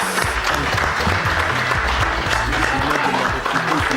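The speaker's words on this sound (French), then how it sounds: "Applaudissons pour l'artiste." Audience applause for an artist at a press conference, sustained dense clapping from a crowd with a voice faintly underneath.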